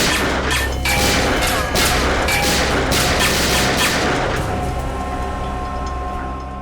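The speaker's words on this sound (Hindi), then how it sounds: "क्यों फिजूल में कानून की गोलियां बर्बाद कर रहे हो" A burst of gunshots cracks out in quick succession, loud and close, then fades into a lingering echoing rumble.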